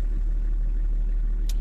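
BMW E34 525 TDS diesel engine with fresh injector and injection pump seals, idling rough with a steady low rumble close by and a slightly uneven beat, no talk.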